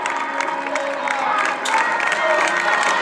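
Spectators at a popular road race in Meaño, Galicia, applaud and cheer the last runners, a lively mix of clapping, shouts and whoops with a few voices mixed in.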